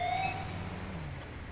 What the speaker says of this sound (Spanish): estamos escuchando ya las sirenas de la policía